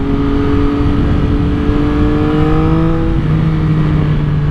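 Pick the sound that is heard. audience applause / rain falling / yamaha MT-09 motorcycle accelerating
yamaha MT-09 motorcycle accelerating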